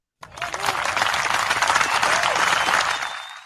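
A canned applause sound effect, triggered by a button during a live podcast, rises quickly into dense, steady clapping and cheering, then cuts off abruptly after about three seconds.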